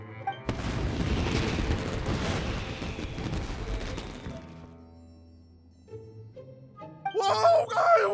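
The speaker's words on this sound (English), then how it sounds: "Yoimiya, this is turning into a bit of a fireworks display" In a video game, a dense, roaring barrage of firework booms and crackling bursts fades over several seconds, then sparser pops and bright crackles build again toward the end.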